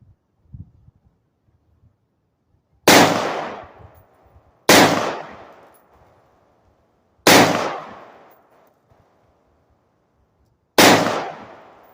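Four loud, sharp gunshots at a shooting range, each a single crack with a quick decaying tail, spaced a couple of seconds apart after a brief quiet start.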